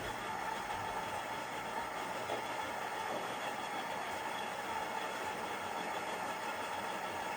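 A Philips coffee machine's grinder with Silent Brew runs as a steady, fairly quiet mechanical whirr and hum, continuous and even throughout with no talk over it.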